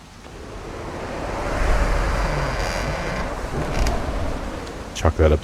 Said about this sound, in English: Chalk that up to the sudden gust of wind there